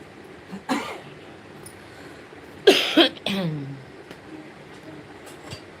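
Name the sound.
coughing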